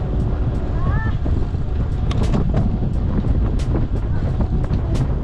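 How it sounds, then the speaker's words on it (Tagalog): Strong wind buffets the microphone during an outdoor ride, a steady broadband roar with gusty rustling and faint voices underneath throughout. "Nandito na yung hangin ngayon."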